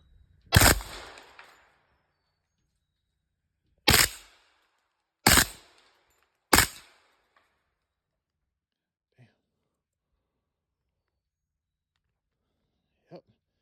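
Several loud gunshots from a CMMG Banshee at an outdoor range: one at the start, then three spaced shots around the middle, each with a sharp crack and a short decay, followed by faint small clicks.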